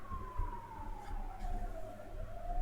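An ambulance siren passes outside on a street in Hungary, a faint, distant wailing tone sliding slowly downward over low traffic rumble.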